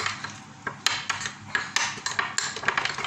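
Chicken being mixed with cumin powder in a bowl, giving irregular clinks, scrapes and soft knocks of a utensil against the bowl, close and moderately loud with no talking.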